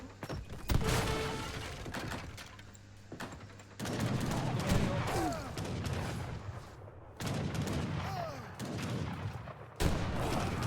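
Cannon volleys fire one after another in a strategy video game siege, each loud burst of booming shots followed by rumbling impacts, repeating in waves across the clip.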